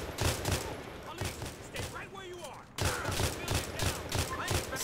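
Bursts of gunfire in the LCPDFR police mod for a crime video game, repeated rapid shots in rhythmic volleys with a brief lull midway, then resuming loudly, with voices over the action.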